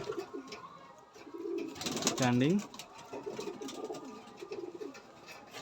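Pigeons in a Madrasi pigeon loft coo in rising and falling calls, one loud bout close by, with someone talking over much of it.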